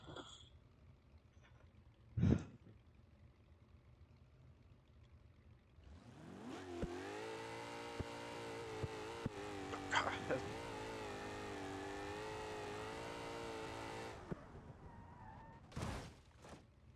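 A car in BeamNG.drive accelerates hard, its engine note rising and holding a steady, buzzing rev for several seconds before cutting off, with a few isolated thumps before and after.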